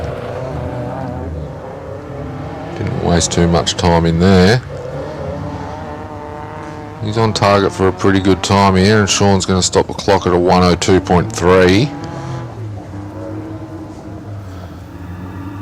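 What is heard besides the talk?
Mark II Escort car driving up a hillclimb course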